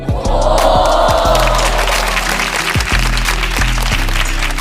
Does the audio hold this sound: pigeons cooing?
no